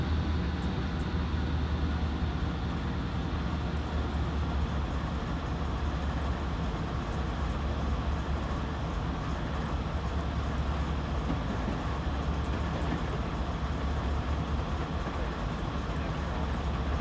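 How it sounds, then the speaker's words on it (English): A runaway BNSF ES44 DC freight train in Train Simulator 2016 on Marias Pass: a continuous loud low diesel rumble and wheel roar, steady and unbroken throughout. "Now we have a runaway train at this point."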